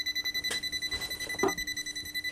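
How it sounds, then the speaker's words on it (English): Rapid electronic beeping from a small device on an electronics workbench: a thin, high-pitched tone pulses quickly and evenly for the whole stretch, fairly faint, with no one talking. "the beeps are coming from this, not from the lab power supply"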